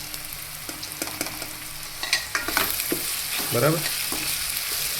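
Chopped ridge gourd for a gourd and tomato curry sizzles in a pan while a spoon stirs it, with scraping clicks and bursts of frying loud and close; a single word is spoken.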